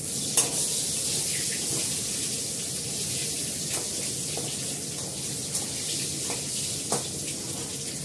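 Steady hissing sizzle of small dried red chillies frying in oil, fairly even throughout, with a few faint scrapes and clinks of stirring.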